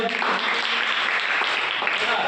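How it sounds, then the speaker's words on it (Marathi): A group of schoolchildren in a classroom claps together in a steady burst of applause, close and lively, with no pause for the whole stretch. "टाळ्या वाजवा."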